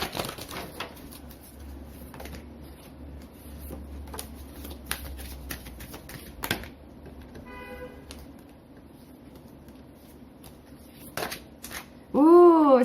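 Tarot cards shuffled by hand, a soft riffling rustle running steadily under low background noise, followed by faint bird-like chirps near the end.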